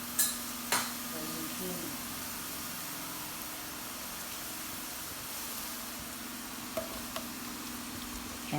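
Vegetables sauté in a pan for minestrone, giving a steady, soft sizzle that runs the whole time with a few light utensil clicks, while a voice speaks briefly over it.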